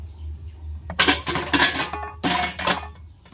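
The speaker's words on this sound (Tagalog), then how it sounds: "Pag nasa bahay lang ako, naghuhugas ako ng pinggan" Plates, pots and cutlery clatter and clink in a home kitchen sink as dishes are washed, with bursts of rinsing water between them.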